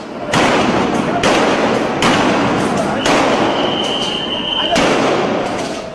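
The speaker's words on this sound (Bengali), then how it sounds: "জবাবে আসে গুলি আর সাউন্ড গ্রেনেড" Gunfire and sound grenades from police during a street clash, heard as a series of loud, sharp broadband blasts roughly every second, each trailing into a rumbling crowd din, with a brief whistle-like tone midway.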